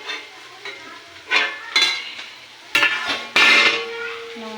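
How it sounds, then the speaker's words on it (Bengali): Mutton sautéed (kosha) in a pot, loud close clanks and scrapes of a metal ladle against the pot in several bursts, with a light sizzle between strokes. "মাটনটা কষানো হচ্ছে।"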